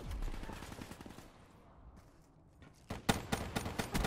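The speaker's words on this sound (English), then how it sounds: "I like how we were both shooting at him." Gunfire from the Black Ops 3 shooter game: a loud opening volley, a quieter lull, then fresh rapid bursts of automatic fire near the end.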